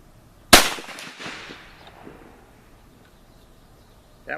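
A single sharp rifle shot from a Savage 340 in 30-30 Winchester fired outdoors with a cast Lyman 311041 bullet load, loud and abrupt, trailing into a long fading echo, with a faint click near the end.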